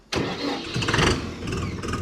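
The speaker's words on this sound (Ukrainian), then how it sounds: "нам залишилось насправді тракторець завести" A KENTAVR 404 XU tractor's four-cylinder engine cranks and catches, then runs steadily with a rough mechanical rumble, close and loud, with a slight rev partway through.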